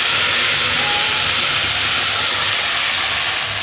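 Ground masala paste sizzles as it is sautéed in a pan, a loud, steady, unbroken hiss filling the whole stretch with no voices.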